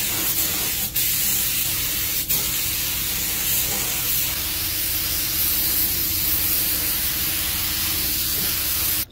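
An HVLP spray gun sprays base coat paint onto a car body, giving a steady, loud, close hiss that runs unbroken for the whole span, with only a couple of brief dips where the trigger eases.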